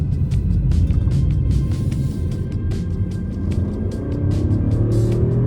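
A 2023 BMW 216i Active Tourer engine hums and rumbles steadily from inside the vehicle, rising slightly in pitch as it pulls and accelerates through a roundabout, with ticking road noise.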